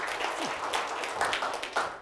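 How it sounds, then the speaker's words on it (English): A seminar audience claps in a short, moderate burst of applause, fairly close but not loud, with scattered individual hand claps audible. "Round of applause."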